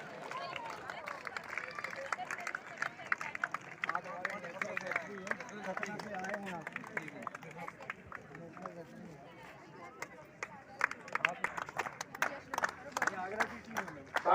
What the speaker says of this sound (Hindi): तालियों की गड़गड़ाहट इस बात का प्रतीक है कि आज का हमारा ये माहौल बहुत ही खुशनुमा है